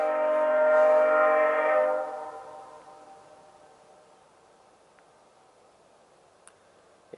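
A VIA Rail passenger train, number 84, sounds its horn for the road mile 11 crossing at Forest Road. The long, loud, multi-tone blast fades after two seconds, and a quiet track rumble follows.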